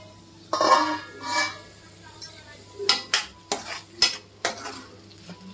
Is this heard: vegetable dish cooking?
yes